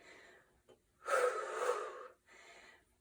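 Heavy breathing during a barre workout: a short breath, then a long forceful gasping exhale lasting about a second, followed by a softer inhale, close and clear with no speech.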